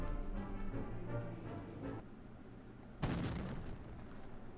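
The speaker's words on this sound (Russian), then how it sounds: "Только лишь звуки салютов остались." Fireworks in the Dragons: Rise of Berk mobile game go off as muffled booms and crackling bursts, with one sharp, loud blast near the end, alone without music or talk.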